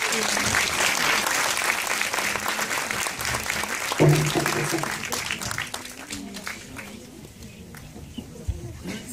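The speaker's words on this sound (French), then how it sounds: "Vous pouvez applaudir Manon" An audience at a film premiere applauds steadily, a full wash of clapping that gradually thins and fades toward the end, with some voices mixed in.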